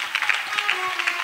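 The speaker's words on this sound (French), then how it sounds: "Acclamation à Jésus-Christ." Church congregation clapping during a French-language testimony service, a short, fairly dense burst of applause with no voices over it.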